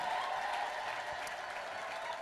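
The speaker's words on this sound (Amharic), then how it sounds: "ከዚህ በላይ ጭብጨባ" A church congregation in Dire Dawa claps together in a steady, even wash of applause, heard from within the crowd at a moderate distance with no talk over it.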